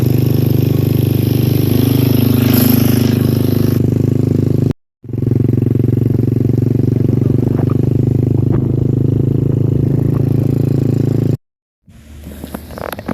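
A motorcycle engine runs steadily at idle with a low droning hum, loud and close, briefly cutting out twice, with faint clatter.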